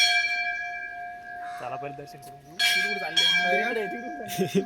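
Sustained temple bell tones ring steadily at Devgad temple, overlaid by several people talking nearby, with a few brighter strikes cutting in toward the end.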